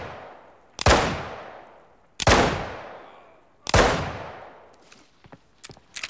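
Three loud gunshots from a weapon in the shooter game Arena Breakout, each with a long echoing tail, spaced about a second and a half apart, followed by a few fainter, quicker shots.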